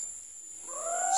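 A single owl call rises out of a steady, high insect drone at night, brief but fairly clear.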